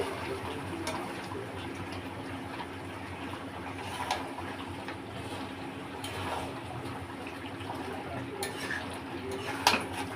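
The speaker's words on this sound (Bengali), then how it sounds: "আমি এখন নাড়তে থাকি" Meat cooking in yogurt in a pot with cashew paste, stirred by a spoon: steady soft bubbling and scraping with occasional metallic clinks against the pot, close and unbroken, no talk.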